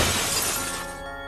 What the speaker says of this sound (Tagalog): biglang may nakarinig ako ng malakas na parang may nabasag sa ibaba